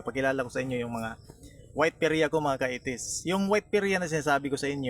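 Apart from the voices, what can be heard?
No distinct noise like a dog, phone or traffic.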